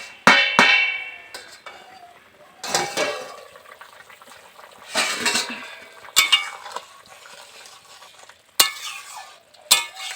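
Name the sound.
opening the lid of a cooking pot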